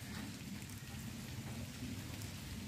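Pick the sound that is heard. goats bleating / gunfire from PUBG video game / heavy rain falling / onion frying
heavy rain falling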